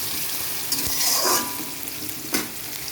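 Potatoes fry in a pan with onion and spices, a constant loud crackling sizzle with a longer scraping stir near the middle and a quick clatter toward the end, close and without speech.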